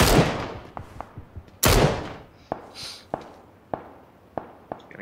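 Gunfire in the PUBG video game, two loud heavy blasts followed by a string of sharper, quieter distant cracks at irregular intervals.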